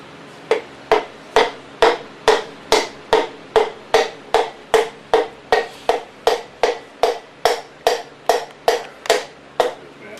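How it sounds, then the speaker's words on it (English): Steady, evenly spaced metallic hammer blows, about two per second, sharp and close, as a piston is hammered into a 302 engine cylinder, continuing without pause and with no talking. "Now he's just going to hammer it in."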